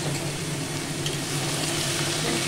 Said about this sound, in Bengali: ঢাকনা খুলে ভালো করে এবার নেড়ে দেবো।